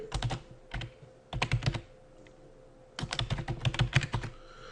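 Fingers type on a computer keyboard up close in quick clattering runs, with a pause in the middle before a longer, denser flurry of keystrokes.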